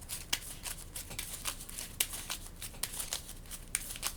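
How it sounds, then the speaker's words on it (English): A deck of game cards for the Marvel Champions card game being shuffled, with a run of sharp riffling snaps and soft flutters repeating in quick bursts at close range, no talking. "I'm going to do a better job at shuffling my deck."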